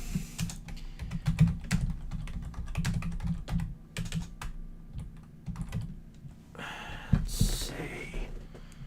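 Rapid, uneven clatter of keys on a computer keyboard, close and fairly loud, with bursts of typing separated by short pauses; a louder rustle or shuffle near the end.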